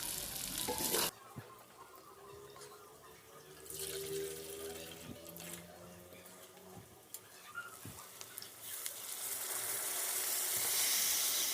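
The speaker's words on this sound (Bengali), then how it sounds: "মাংসটা আমার ভাজাভাজি হয়ে গেছে" Meat sizzles and is stirred in a frying pan, a continuous hiss with scraping, and water running briefly in the background.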